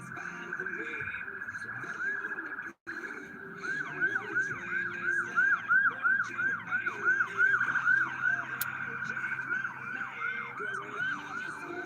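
Police car sirens wail steadily in the distance, a repeating rising-and-falling electronic tone that carries over street noise and continues under talking.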